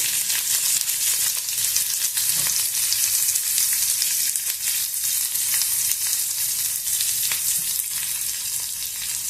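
Curry leaves, green chillies and onions frying in a pan for oats upma, a loud, steady, dense sizzle and crackle filling the whole stretch with faint stirring, close up and with no talk.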